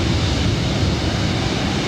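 An airliner takes off from runway 24 right at LAX, a dense, broad jet roar that holds steady and loud throughout, with no voices over it.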